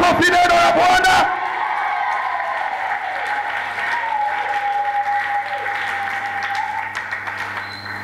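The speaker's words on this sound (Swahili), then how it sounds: "Pigia makofi neno la Bwana" Loud, sustained applause fills a church seminar hall, a packed audience clapping steadily without pause, with a brief burst of voices and cheering at the start before settling into even, continuous clapping.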